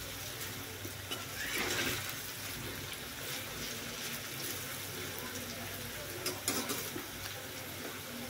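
A simple vegetable bhaji frying in a pan, a constant soft sizzle with occasional stirring scrapes, somewhat faint and watery in tone.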